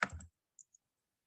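A few quiet keystrokes on a computer keyboard while typing a search: a short cluster of taps followed by two isolated clicks, faint and close.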